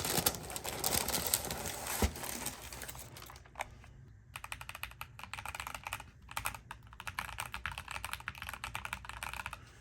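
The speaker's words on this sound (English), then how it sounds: "Very nice click on this keyboard" A Corsair K70 Core TKL mechanical keyboard is typed on in a quick steady patter of crisp clicks, close and clear, with a pigeon cooing faintly in the background.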